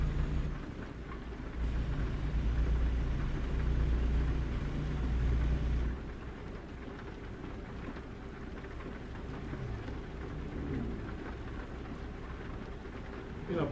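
Steady rain and rumbling thunder in American Truck Simulator, a continuous hiss of rainfall over a low rolling rumble that is heavier at first and then eases into a softer, even downpour, with no talking.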